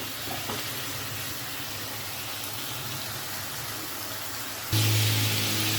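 Bottle gourd sautéing in a pan with a little oil, a steady hissing sizzle throughout, ending in a sudden louder rush of sizzling.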